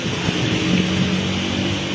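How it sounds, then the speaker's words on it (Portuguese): Heavy rain and gusting wind in Patos, Paraíba, a steady dense broadband roar that stays loud and unbroken throughout, with no talk over it. "Eita, menino, chuva inesperada aqui em Patos."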